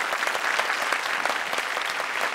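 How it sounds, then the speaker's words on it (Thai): Audience at an innovation awards event applauding, a dense, even burst of clapping from many hands filling the whole moment, loud and close, with no speech over it. "ขอเสียงปรบมือนะครับให้กับเจ้าของนวัตกรรมอื่นๆด้วยนะครับ"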